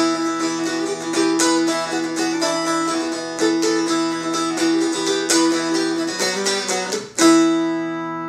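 A bright mountain dulcimer is strummed steadily with ringing drones, occasional sharper accent notes standing out, ending on a sustained chord.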